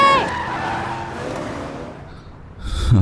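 A car speeding through traffic as an improvised ambulance, engine roaring and tires screeching in a sharp skid at the start, then a loud burst near the end, under a voice speaking.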